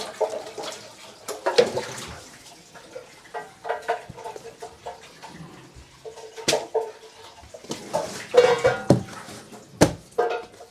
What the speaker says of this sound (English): She's washing one of her brushes.